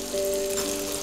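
Black mustard paste, poppy seed paste and ginger go into hot oil with fried ridge gourd for Bengali shukto, giving a soft, even sizzle for about a second with a faint steady hum.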